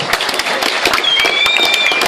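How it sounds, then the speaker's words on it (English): Crowd applause at a modified car super lap race track event: dense, steady clapping throughout, with a thin whistle-like tone rising over it midway. "Round of applause for Mike Fitzgerald, guys."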